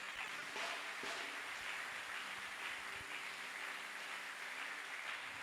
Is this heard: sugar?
no